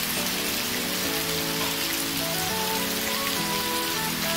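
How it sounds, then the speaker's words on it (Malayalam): Heavy rain pours steadily outside a home in Kannur, a dense continuous hiss that holds for the whole stretch, with a faint tonal layer running beneath it. "ഞങ്ങളെ വരവേറ്റത് ഒരു നല്ല ഉഗ്രൻ മഴയായിരുന്നു"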